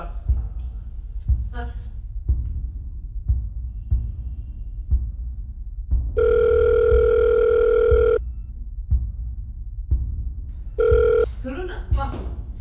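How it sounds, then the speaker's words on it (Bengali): A phone rings out on the caller's end and no one answers. Two electronic ringback tones sound, one long and one short, among soft thumps and room noise. "ফোন করছে, ফোনই তো ধরছেন মানুষটা"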